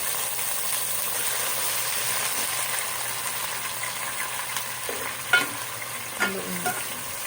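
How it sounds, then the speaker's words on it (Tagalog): Chicken goes into a pan of sautéed onion, garlic and ginger, giving a constant close frying hiss with a few light utensil taps near the end. "Ilalagay na po natin ang ating chicken."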